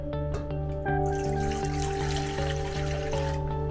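Warm water is poured for a bread dough, a steady close trickle running under a sustained tonal music bed without talking.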